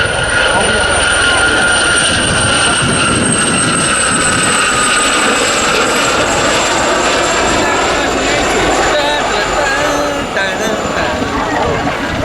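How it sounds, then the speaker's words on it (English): A Gazelle helicopter at RAF Cosford gives off a steady, high-pitched whine from its engine and Fenestron tail unit. The whine holds loud and continuous over a rotor rumble, with some talk underneath. "you can hear the very distinctive whine sound that comes from the combination of the engine and the Fenestrom tail unit"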